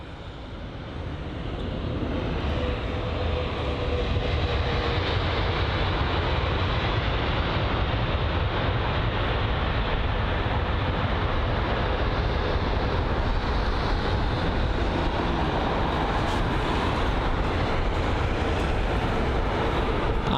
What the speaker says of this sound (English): we've got a 787 Dreamliner here just about to touch down.